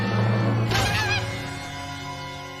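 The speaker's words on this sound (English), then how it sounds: "What are you doing in here, Mr. Goose?" A goose honks in a scene from the 2022 horror film Pearl. Its loud, wavering call stands out over a steady, low background hum, then fades away.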